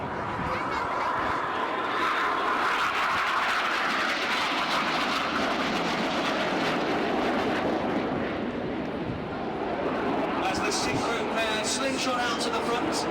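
Red Arrows display jets roar overhead at an air show as a loud, sustained rushing blast that fills the whole span, with a commentator talking over it.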